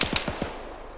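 Gunfire in the video game ArmA 3: a quick burst of about four sharp, loud shots in the first half second, each trailing off into a fading rumble.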